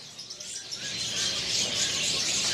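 Many caged canaries chirp and warble together at a bird kiosk in Pramuka market, a steady bright chorus of high tweets with a few sharper calls early on, no voices.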